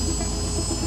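A police helicopter in flight gives off a steady, close engine whine and roar with a constant tone throughout the brief moment.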